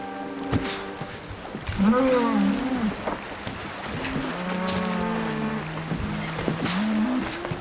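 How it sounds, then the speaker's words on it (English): Cattle bellow loudly in a series of long, low moos, several animals calling one after another at close range. "Can't you hear those cattle bellowing?"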